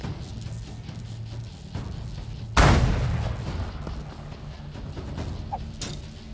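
A single loud magnum pistol shot from the video game The Culling cracks out sharply midway, its boom decaying over a couple of seconds above a low steady game-ambience hum.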